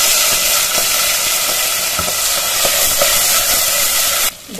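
Vegetables sizzle and fry in a spoonful of oil with cumin and mustard seeds inside a pressure cooker, a steady loud hiss with faint crackles and stirring scrapes throughout, dropping slightly at the very end.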